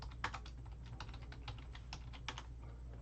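Typing on a computer keyboard: steady, close clicking keystrokes in quick irregular bursts over a low hum, with no talking.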